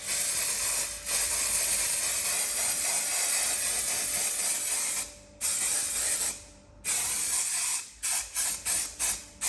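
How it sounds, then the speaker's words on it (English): Black spray paint hisses from an aerosol can onto a toy dinosaur in long continuous bursts, followed by several short rapid sprays near the end, loud and close. "So this is basically a black spray paint."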